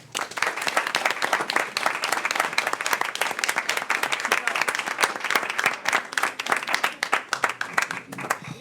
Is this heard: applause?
yes